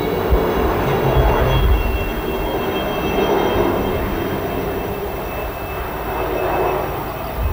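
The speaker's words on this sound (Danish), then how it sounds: "Så Græshopperne ind over i en såkaldt echelon-formation, hvor alle helikopterne fungerer på linjernes ene side." Helicopters pass overhead in echelon formation at an air show open house at Værløse air base in 1984, a steady broad rotor and engine roar that swells and fades slightly across the pass, with no talking.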